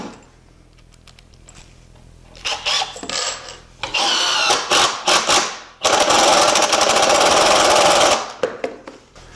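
Power drill driving 3-1/8 inch #9 Torx construction screws into pre-countersunk holes while assembling a wooden loft ladder, with several sustained whirring bursts, the longest run at the end, close and loud.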